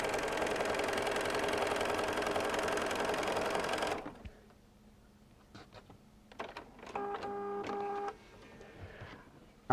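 A sewing machine stitches a Christmas stocking with a fast, steady mechanical whir for about four seconds, then stops, followed by quiet handling clunks and a short tonal beep.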